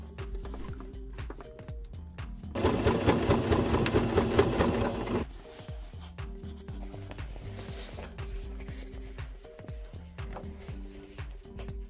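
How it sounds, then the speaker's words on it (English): Sewing machine zigzag stitching a cord in a circle while upcycling an old school backpack, a close rhythmic clatter in the background with one louder, faster run of stitching in the middle. "I sew the cord in a circle. Machine stitch, zigzag."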